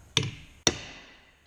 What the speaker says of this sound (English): we're gonna start hammering on that